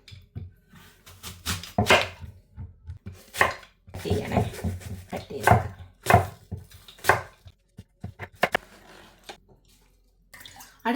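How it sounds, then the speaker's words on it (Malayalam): An apple sliced with a knife for a mixed fruit pickle: sharp, irregular chops and knocks on a board, some in quick clusters and others spaced apart, with a wet, splashy edge, close and fairly loud, with no voices. "ഇനി നമുക്ക് ഈ ആപ്പിൾ കട്ട് ചെയ്യാം"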